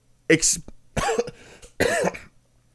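Three close, harsh coughs in a row, each a short burst separated by brief pauses.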